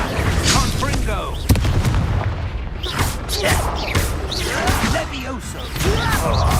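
Blasting-spell explosions go off in a Hogwarts Legacy fight, loud booming bursts and crashes repeating over a dense, busy battle din.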